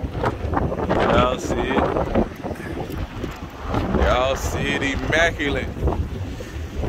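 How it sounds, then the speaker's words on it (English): Strong gusts buffet the microphone in heavy rumbling waves while a man calls out briefly over the roar. "Yeah, woo, it's windy today."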